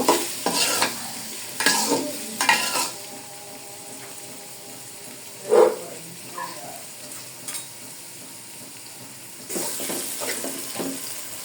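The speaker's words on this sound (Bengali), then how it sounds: "এখন আমি ভালো করে পেঁয়াজটাকে ভেজে নিব" Salted onions fry in a pan and are stirred now and then, with scrapes and clatters of the spoon against the pan over a faint, low sizzle. No one speaks.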